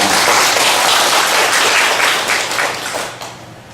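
Applause from a church congregation fills the space as a dense, sustained wash of many clapping hands, loud and even before thinning toward the end.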